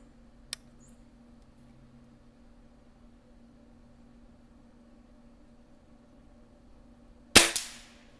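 A Weihrauch HW77K spring air rifle shooting at a metal knockdown target: a faint tiny click early on, then a long quiet pause before one loud sharp crack with a brief ringing tail.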